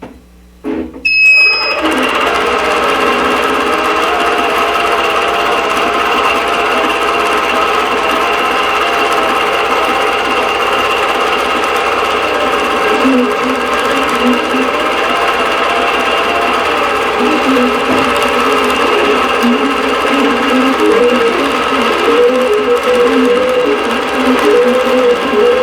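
A sewing machine stitches the first row of a tapestry quilt, starting with a click and then running in a steady, loud, continuous mechanical hum and rapid needle rattle throughout, close up with no talking.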